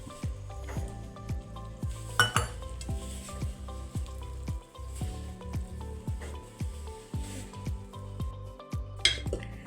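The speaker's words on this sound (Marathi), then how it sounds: "तर आता पीठ मळून घेऊयात" Bajra (pearl millet) flour is kneaded by hand with water into soft dough for bhakri, giving close, rhythmic squelching presses and slaps that repeat steadily with no talking.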